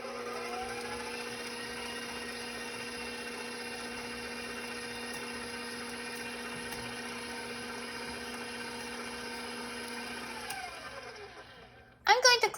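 Stand mixer beating chocolate chip muffin batter, a steady whirring motor hum held unchanged for about ten seconds before it winds down and stops, followed by brief clatter.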